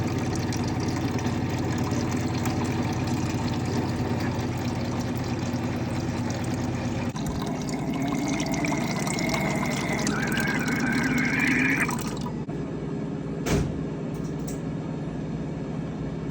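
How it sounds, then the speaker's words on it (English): New pumps running in an ElectroFreeze machine, a steady mechanical hum with gurgling water flow, shifting in tone partway through before settling quieter, with a brief knock near the end. "Listen to that sound, brand new pumps."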